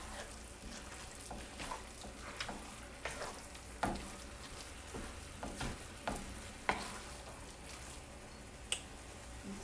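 Ground beef frying in a skillet used earlier for vegetables, a steady close sizzle broken by scattered pops and scraping stirs.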